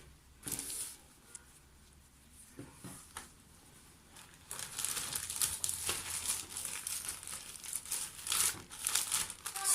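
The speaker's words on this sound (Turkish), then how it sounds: "Şöyle bir poşetimin içerisine yerleştireceğim." A plastic bag crinkles and rustles as thin yufka dough sheets for börek are placed inside, soft and sparse at first, then a denser, louder stretch of crackling handling.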